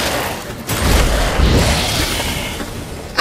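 Igni fire sign bursts out in The Witcher 3 during the battle of Kaer Morhen, a whooshing, rumbling blast of flame swelling after a brief pause, then fading, with a sharp hit at the end.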